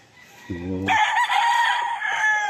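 A gamefowl rooster on a game farm crows once, loud and close, a short low note followed by a long, strained, wavering call.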